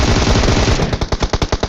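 Rapid automatic gunfire in PUBG Mobile, a dense loud burst that breaks into distinct evenly spaced shots toward the end, close and with no talk over it.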